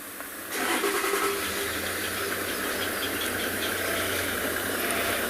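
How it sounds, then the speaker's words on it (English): Traffic on a main road beside a safari reserve, a steady broad rumble and hiss of passing vehicles that swells after a moment and holds at moderate loudness, with no talk. "There's one or two cars, because we're on the main road."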